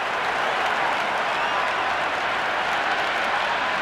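A cricket stadium crowd applauds during a Test match in Cricket 26, a dense, loud wash of clapping and cheering that holds steady for several seconds without letting up.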